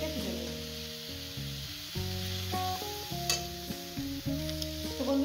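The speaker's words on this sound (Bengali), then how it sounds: "আমার শাকটা ভাজা হয়ে গেছে" Radish leaves fry in a pan with a steady, moderately quiet sizzle and occasional stirring scrapes, heard beneath prominent melodic background music.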